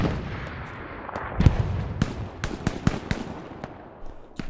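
A grenade goes off in Hell Let Loose, landing as one sharp blast followed by a string of distant gunshots and cracks across a battlefield, fairly faint overall.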